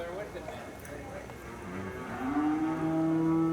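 A cow moos during cutting horse work, a long drawn-out low call rising near the end over faint arena background noise.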